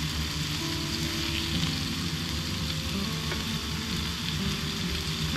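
Homemade fried sushi sizzles steadily in hot oil, a continuous soft crackling and bubbling frying sound heard up close without any talk.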